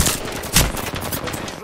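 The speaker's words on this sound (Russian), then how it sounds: "Меня заметили. Я под обстрелом." Rapid automatic gunfire during a firefight in Apex Legends, loud and dense, with a sharp burst in the middle and continuous rattling throughout.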